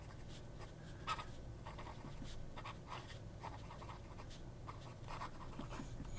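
Steel-nib fountain pen writing on paper, a steady close scratchy rustle of nib strokes with small repeated taps across the whole stretch, no talking.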